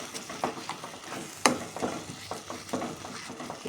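A spoon stirs a tomato and coriander powder egg curry in a pan, giving soft irregular scrapes over a low sizzle, with one sharp clink against the pan partway through.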